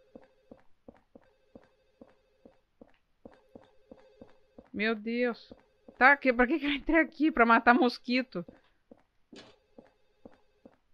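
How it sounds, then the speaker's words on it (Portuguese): A telephone bell rings repeatedly inside the Silent Hill 4 video game, a steady series of short rings running throughout at moderate level, partly under someone speaking Portuguese. "Ai, que saco esse telefone."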